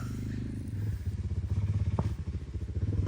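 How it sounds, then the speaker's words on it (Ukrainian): Motorcycle engines pulse and rumble nearby, growing louder with a rhythmic throbbing as they pass by. "Мотоцикли нам трішки заважають."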